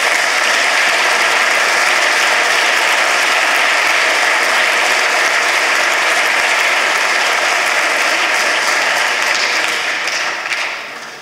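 Sustained, dense audience applause fills an award ceremony hall at the 2011 European Union Contest for Young Scientists, steady and loud throughout before tapering slightly at the end.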